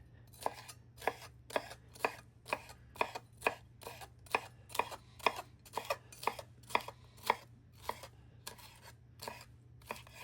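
A kitchen knife dices food on a cutting board at home, giving steady, evenly spaced sharp chops, about two per second, close and distinct over a low background hum.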